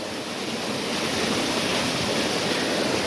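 A tubewell gushes water into an irrigation channel among wheat fields, a loud, steady rushing wash that fills the whole stretch without a break.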